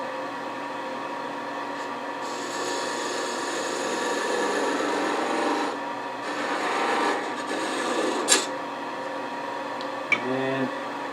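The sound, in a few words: shaping bubinga wood on a lathe, rounding over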